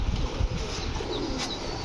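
Lavender Siraji pigeons coo at a busy pigeon market, low soft throaty cooing close by, mixed with bright chirps and steady background noise.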